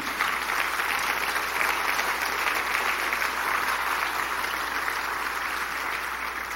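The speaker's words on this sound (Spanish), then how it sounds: "Dele un aplauso al Señor, amén." A church congregation applauds during a Spanish-language sermon, with dense, even clapping that holds at a steady level throughout without letting up.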